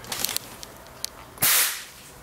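A few faint clicks, then a sharp, loud hiss as a Nitrous Express intercooler sprayer bursts out for about a second and quickly fades.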